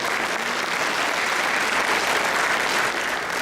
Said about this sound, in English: Let's have a round of applause for Senator Logan.